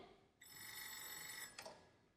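A telephone bell rings, a sustained trill of about a second followed by the start of a second ring, quiet and alone with no talk.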